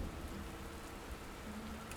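Rain in the video game Dustland Delivery falls as a soft, steady hiss, faint and even throughout with no other sounds.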